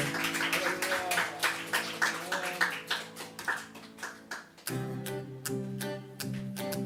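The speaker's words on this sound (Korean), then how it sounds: "하나님께 영광의 박수 올려드립시다" A church congregation claps in a steady rhythm over music. The sharp claps repeat evenly and stay fairly close, and the beat carries on after a brief shift in the accompaniment.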